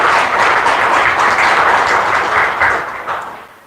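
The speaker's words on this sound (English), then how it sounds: "I want to give them a round of applause." Loud, dense applause from a crowd at the Castle Museum of Saginaw County History, steady for a few seconds before fading toward the end.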